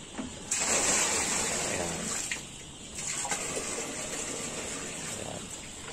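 Liquid mixture of livestock vaccine and milk gushing and splashing into a water drum for farm animals, a loud steady pour that tapers off midway and then resumes more softly, with a voice speaking briefly over it.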